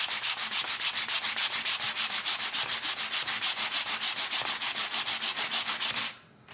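A dry embossed background is lightly sanded by hand in quick, even back-and-forth strokes, a rhythmic scratchy rasp repeating about five times a second for six seconds before it stops, close up and with no voices.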